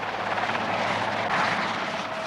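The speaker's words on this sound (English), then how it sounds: "Once the Sea King has started to hover, the crew will then test the sonar buoy" A Sea King helicopter hovering over a sonar buoy during a 1970 test flight produces a steady, loud rotor and turbine roar with fine blade chop, constant throughout.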